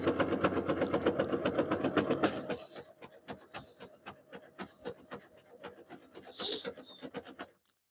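A sewing machine stitches a jelly roll rug, a rapid run of even mechanical taps that is loud at first, then slows into a sparser, quieter ticking before stopping.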